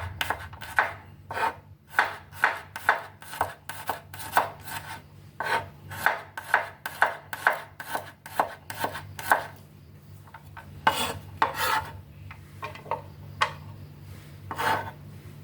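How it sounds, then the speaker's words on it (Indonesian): A knife thinly slices garlic cloves on a board in quick, regular taps, close and crisp, with a short pause before a few more cuts and a faint steady hum underneath. "Empat siung bawang putih diiris-iris tipis juga."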